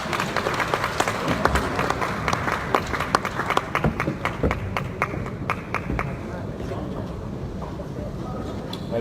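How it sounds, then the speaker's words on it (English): Attendees at an international real estate panel clap, with a steady, fairly loud patter of many hands at the start, thinning to scattered individual claps over a busy room murmur and some talking. "I request all of you all to give a big round of applause"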